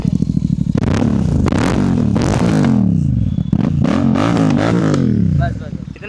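A motorcycle engine with its catalytic converter still fitted revs hard in repeated surges, throwing sharp exhaust pops and backfire crackles between the rises. The sound is loud and close, and people talk over it.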